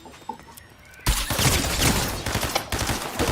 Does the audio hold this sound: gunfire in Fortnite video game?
yes